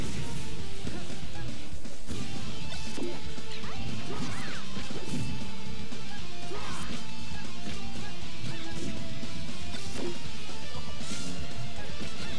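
Repeated crashing, whacking hits from a Beam Sword in the fighting game Project M, landing in quick irregular bursts over a dense bed of game music and effects.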